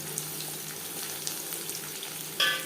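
Chopped onion and a bay leaf sizzle in hot mustard oil for a mutton liver and potato curry, a steady moderate frying hiss with a brief louder burst near the end.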